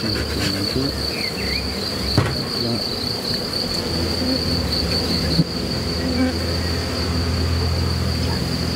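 A honeybee swarm hums steadily outdoors near a hive, a dense continuous buzz filling the whole stretch at a loud, even level, with a couple of brief knocks and no talking.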